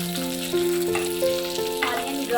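Onion frying in about two teaspoons of oil as the base of a fish curry masala, a steady close sizzle running throughout, with harmonic tones overlying it.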